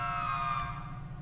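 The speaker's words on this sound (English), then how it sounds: "Did my sirens get messed up? My sirens are messed up." Police car sirens in the Southland Roleplay video game, a steady electronic wail sounding continuously and fairly loud, with no talking.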